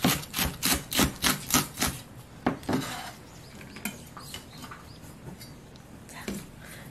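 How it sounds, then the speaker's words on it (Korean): Green onion being finely sliced with a knife on a board: a run of about eight quick, evenly spaced chops up close, then scattered lighter knife taps and scraping sounds. "대파 한 반부리 잘게 송송 썰어주겠습니다"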